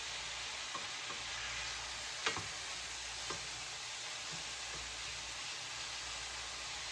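Alberta ground beef fries and browns in a pan with a steady, close hiss of sizzling and a few light clicks of stirring, with no one talking.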